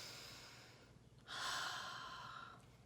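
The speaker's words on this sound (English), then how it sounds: "And now I want to bring your attention to the breath." Breathing demonstrated during a singing lesson: a soft breath, then a strong, airy inhale or exhale lasting over a second, close and fairly loud, with no talk.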